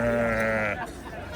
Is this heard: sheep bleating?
yes